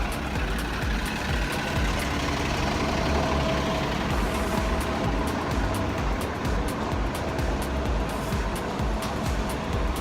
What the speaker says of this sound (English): one of those New York buses behind me.